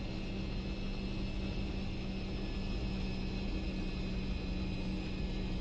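An airliner taxiing in X-Plane 10 at Los Angeles airport: a steady, even engine drone with a constant hum, unchanging throughout and with no voices.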